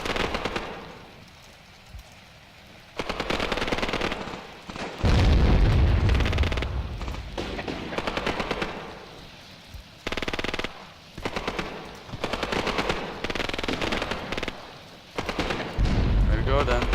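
Artillery and gunfire in the war game Graviteam Tactics: Mius Front, with rapid bursts, dull booms and chattering fire in repeated loud stretches, mixed with game sound and someone talking.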